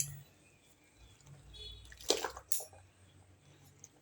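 Cloth rinsed by hand in plain warm water in a bucket, with two short splashing swishes close by and faint drips around them, no talk.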